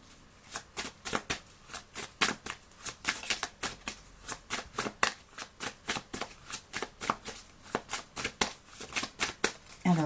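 Playing cards shuffled repeatedly in a quick, steady riffling rhythm, close and fairly loud, with no one speaking.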